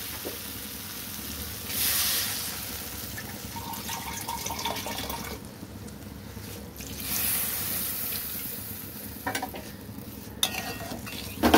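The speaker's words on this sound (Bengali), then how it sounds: "এবার আমি এর মধ্যে জল দিয়ে দেবো।" Water poured into a spice paste frying in a pan brings a soft bubbling hiss with a couple of louder gushing swells and occasional light scrapes, fairly quiet and with no talking.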